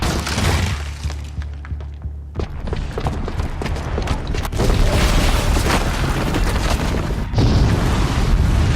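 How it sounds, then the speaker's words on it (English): A bomb's booby trap goes off in a video game, a loud sustained blast of crashing, shattering debris that rumbles on for several seconds with no speech over it. "the booby trap on the bomb downstairs is gonna get set off"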